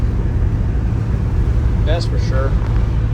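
Low steady engine drone and road rumble from a 1963 Chrysler Newport with a 361 big-block V8 and stick shift while driving, continuous and fairly loud, with a brief voice near the end.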